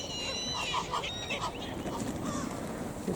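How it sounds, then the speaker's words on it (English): Seagulls calling outdoors on a walk, several thin, wavering cries scattered over a constant wash of wind and ambient noise. "Flock of seagulls."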